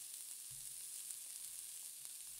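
Vegetables and tomato paste simmering in a pan give off a faint, steady hiss of sizzling, low and even throughout with a couple of soft bumps.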